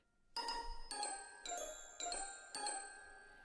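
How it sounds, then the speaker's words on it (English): Glockenspiel bell notes layered with a synth in a studio music mix: five bright struck tones, evenly paced and each ringing on clearly, with no voices. "I also have a glockenspiel hitting those notes."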